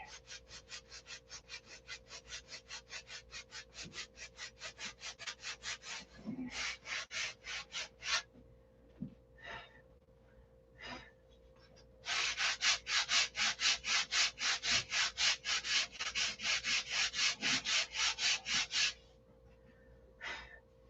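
A small wooden piece sanded by hand, held rather than set on a workbench: quick rhythmic rasping strokes in bursts, a fast run, a pause with a few scattered rubs, then another long steady run of strokes, close and clear.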